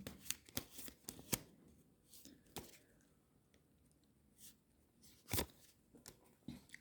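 Tarot cards being shuffled and drawn by hand, giving a string of sharp papery snaps and riffles with quiet gaps between bursts, close and fairly soft, with no talk.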